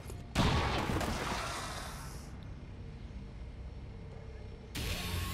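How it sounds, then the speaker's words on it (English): A grenade blast in the XCOM 2 video game: a sudden loud boom that rolls into a long fading rumble and debris hiss, followed by a second swell of noise near the end. "Let's toss a grenade."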